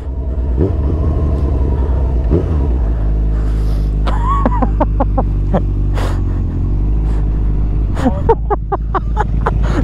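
A 230hp Honda CB1000R motorcycle engine revs hard again and again, climbing quickly to the limiter. Loud, close blips and bursts ride over a deep, steady idle rumble.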